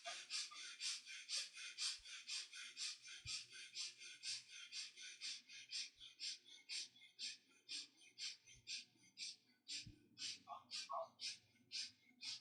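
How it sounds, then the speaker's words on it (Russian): Rapid, interrupted chest breathing repeats as a long series of quick, airy breath pulses in an uneven rhythm, faint and close throughout. "начинайте дышать быстрыми, прерывистыми дыханиями грудью"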